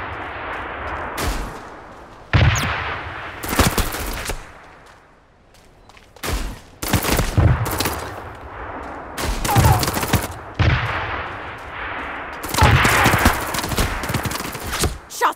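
Repeated gunfire in the mobile shooter Super Mecha Champions, loud bursts and volleys arriving in irregular clusters with short gaps between them, no talk over them.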